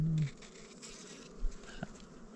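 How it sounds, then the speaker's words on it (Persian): A bee buzzes close by for a few seconds, a soft droning hum with small swells and dips, heard alone with no talking. "این زنبور ملچه ایه"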